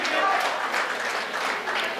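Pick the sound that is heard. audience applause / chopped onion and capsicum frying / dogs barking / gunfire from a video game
audience applause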